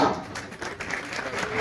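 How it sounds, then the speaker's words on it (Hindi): Faint, thin applause rises at an NCP party office gathering to welcome a guest, with a few scattered claps under crowd murmur. "जोरदार तालियों के साथ सत्कार डॉक्टर साहब का"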